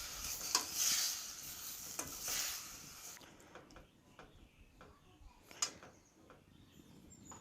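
Stirring a dry potato curry with celery after adding water to the pan: a spoon scrapes and swirls with soft sizzling, louder at first, then quieter scattered clicks and taps.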